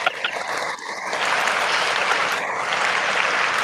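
Sound-effect applause played during a live stream: a dense, steady wash of many hands clapping that swells after the first second and holds loud to the end, with no talking.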